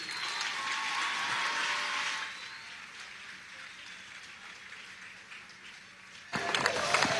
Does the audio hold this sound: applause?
yes